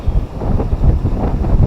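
Strong dry wind during a power outage buffeting the microphone, a steady rough roar with low rumbling gusts throughout.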